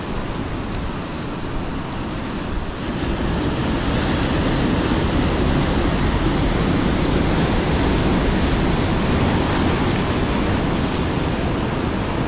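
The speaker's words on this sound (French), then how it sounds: "les vagues, elles sont énormes" Heavy surf roars continuously, a dense wash of huge crashing ocean waves with wind noise buffeting the microphone throughout, on the shore during December fishing.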